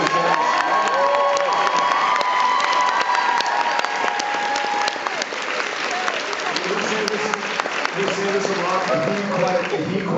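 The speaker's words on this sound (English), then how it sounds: "Can everybody please give him a round of applause?" Loud audience applause and cheering at a fan convention panel, many hands clapping with whoops and shouts from the crowd throughout, sustained and close.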